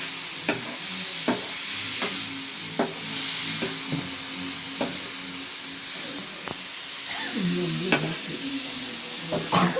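Tomato frying for a spicy mutton roast gives a continuous hissing sizzle, with a spoon scraping and knocking the pan at irregular intervals, close by and without speech.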